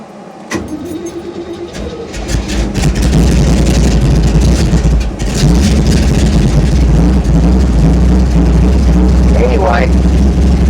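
A car engine cold-starts with the choke engaged, catching after about two seconds and settling into a loud, steady, rumbling idle, with voices talking over it.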